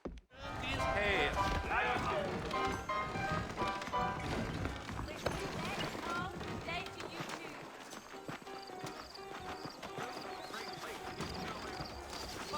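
Horse hooves clip-clopping in the Red Dead Redemption video game, a quick repeated trotting rhythm under game music, with voices talking over it.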